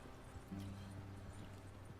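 Horses gallop in the Red Dead Redemption video game, a faint rapid clip-clop of hooves running steadily under a low background.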